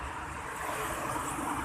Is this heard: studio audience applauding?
no